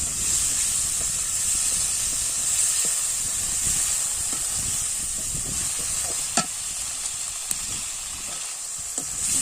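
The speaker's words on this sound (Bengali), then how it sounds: "মাছগুলো ভালো করে লাল লাল করে ভেজে নেবো" Prawns frying in hot oil in a wok give off a steady, loud sizzle throughout, with a few sharp clinks from stirring.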